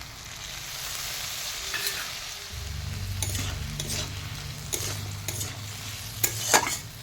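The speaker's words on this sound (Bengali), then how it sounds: "দুই থেকে 3 বার নাড়াচাড়া করে আমি মশলাটা ভালোভাবে কষিয়ে নিব" Mustard paste masala with turmeric and chilli powder is stirred and fried in a pan, a close, steady sizzle punctuated by repeated scraping strokes of a spoon, with no talking.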